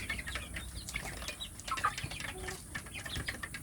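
Native village chicken chicks peep and cheep in high, repeated chirps close by at feeding time, scattered and overlapping, with soft scuffling and rustling underneath.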